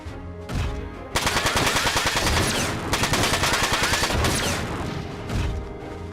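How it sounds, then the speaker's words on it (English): Machine gun fire in the Front Mission 4 video game, a loud sustained burst of rapid rattling shots lasting several seconds, with a short lead-in of softer game sounds and brief dips in the barrage. "Let's just go with the machine gun."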